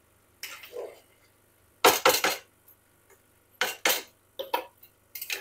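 A spoon clinks and scrapes against a pot while ghee and garam masala are stirred into potol curry, in short bursts of metallic clatter separated by quiet pauses.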